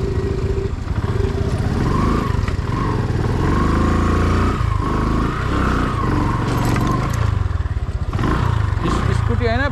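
Scooter engine running loud and continuous on a slippery road in Nepal, with a steady low drone and rushing wind, and a person talking over it throughout.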